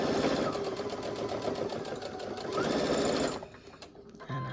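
Brother NQ3550W sewing machine stitching a quilted seam, a fast, even mechanical whir running for about three seconds, then stopping abruptly with a few faint clicks after.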